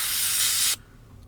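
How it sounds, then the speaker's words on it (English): An airbrush spraying reducer through during cleaning after custom painting an RC body shell, a steady close hiss lasting under a second before cutting off abruptly into quiet. "what I do is I spray a tiny bit of it through."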